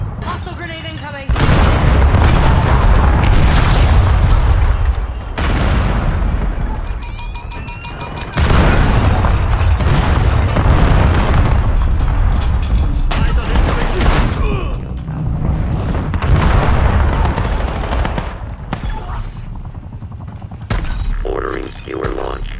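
Grenade explosions in Destiny 2, heard as loud sustained booming and shattering blasts in long bursts with gunfire mixed in, and voices talking at points.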